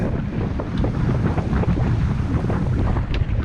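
Strong wind rushes and buffets the microphone aboard a sailboat racing around the Isle of Wight, a loud continuous roar with rushing water beneath and no talk.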